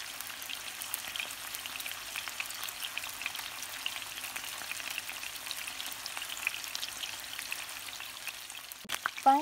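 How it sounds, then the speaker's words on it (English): Marinated beef tapa fries in oil in a pan over medium-low heat, giving a steady soft sizzle and crackle throughout, with a brief clatter near the end. "So when frying the tapa, this will not take long."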